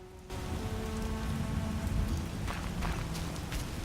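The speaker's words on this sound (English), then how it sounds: "What a downpour." Heavy rain downpour in The Witcher video game, a dense, steady hiss of drops on surfaces filling the scene with no talk.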